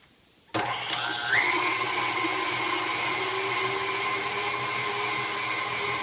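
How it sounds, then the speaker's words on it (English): An electric meat grinder starts up and runs steadily while meat is fed through it for a Holland schnitzel, giving a loud, even motor whine close by with no talk. "when the meat is grinded, then it will just fall in a Ziploc"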